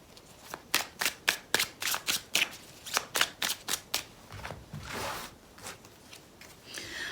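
Tarot cards shuffled by hand, a rapid series of crisp riffling bursts in quick rhythm, close and distinct, followed by a softer sliding rustle and a few lighter card flicks.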